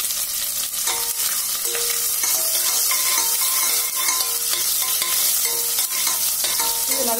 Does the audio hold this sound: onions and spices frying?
yes